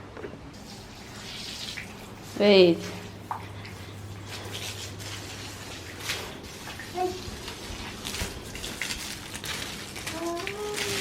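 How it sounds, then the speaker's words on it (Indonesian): Water poured from a container onto dried-out flowers, with splashing and trickling running through most of the stretch at moderate level and a brief louder gush near the start; a voice speaks once near the end. "Kayaknya kita perlu siram ini."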